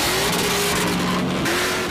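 A Chevelle SS with a GM 502 big block roars loudly, engine and squealing tyres blending into one dense, sustained blast as the car goes out of control in a film scene.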